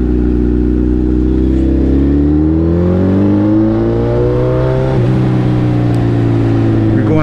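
Motorcycles on a group evening ride rev loudly and steadily nearby, engine pitch climbing and falling through the whole stretch with no talk.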